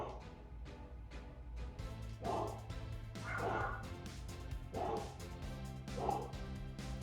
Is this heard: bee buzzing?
no